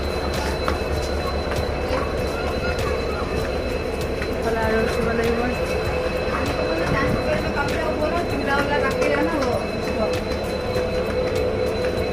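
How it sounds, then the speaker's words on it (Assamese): A train stands at Rangapara junction railway station amid steady platform rumble and clatter, with faint metallic squeals from wheels or cars throughout and people talking nearby. "ইয়াত ট্ৰেইন ৰখি আছে এখন।"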